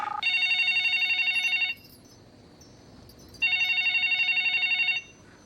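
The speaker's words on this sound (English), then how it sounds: "how in the hell do you know Miss Glass's phone number?" A telephone in a TV drama scene rings in two loud electronic trilling bursts, each lasting about a second and a half, separated by a short quiet pause, with no talking over it.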